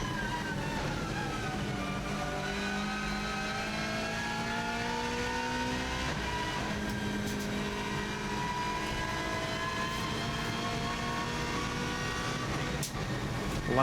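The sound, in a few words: race car accelerating from 120 to 170 on Isle of Man TT course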